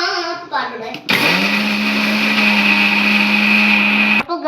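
A kitchen mixer grinder blending fish masala whirs loudly and steadily for about three seconds. Brief voices can be heard before it starts and again after it stops.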